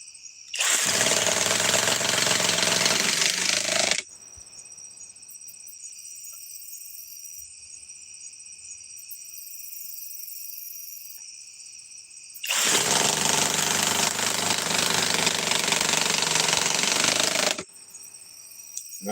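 Impact driver set to speed 3 runs in two long bursts, each about four seconds, loud and close, with a quiet hum of background insects between them.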